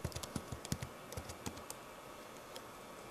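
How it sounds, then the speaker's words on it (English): A computer keyboard is tapped in a quick run of clicky keystrokes while a password is entered, close and fairly faint, trailing off into sparser single presses with no voice. "And then you have to type it again."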